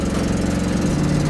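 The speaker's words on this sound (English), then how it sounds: "the exhaust leak is driving me crazy" A Chevrolet Camaro engine with an exhaust leak runs steadily, a loud, continuous rumble with a rapid ticking puff pulsing through it, close and alone without voices.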